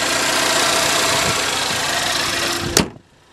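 A 2014 Chevy Equinox LT AWD with salvage history idles steadily and close by, a smooth continuous engine hum with no talk, ending abruptly with a sharp thud as the sound cuts off.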